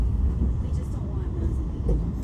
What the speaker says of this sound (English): So many MARC trains.